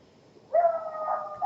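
A dog lets out one sustained, tonal howl that rises sharply and holds for about a second, fairly close and alone in a quiet room.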